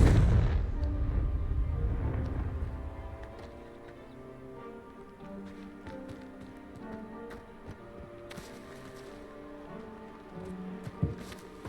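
A Confringo fire spell in Hogwarts Legacy lands as a heavy booming blast at the start, its rumble fading over a few seconds into quiet ambient game sound with scattered faint clicks.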